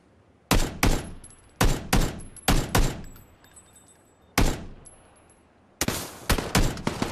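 Gunfire in the PUBG video game comes in loud, close clusters of sharp shots, with pairs and triplets separated by short pauses and a few faint metallic pings between bursts.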